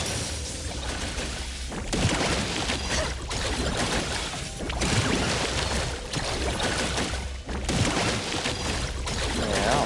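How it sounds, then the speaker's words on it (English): Water-bending effect in the game Neverness to Everness: a steady, dense rush of splashing, pouring water fills the whole stretch, with surging swells and brief dips, loud and continuous. "Yeah, water bending."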